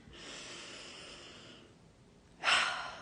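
A deep breath drawn in slowly and audibly through the nose for over a second, then after a short pause a louder, rushing breath out, close and alone.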